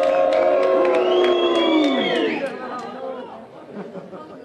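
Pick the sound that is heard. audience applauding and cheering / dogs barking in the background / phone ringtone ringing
audience applauding and cheering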